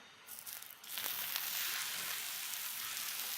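Pieces of cod wrapped in savoy cabbage leaves hit a hot teppan, and a soft crackle rises quickly into a steady, dense sizzle that holds evenly, with no talking.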